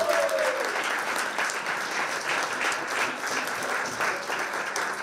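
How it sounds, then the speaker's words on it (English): A hall audience at the Estonian best sommelier competition applauds continuously, a dense, even clatter of many hands, with a brief voice at the start. "So, applause, please."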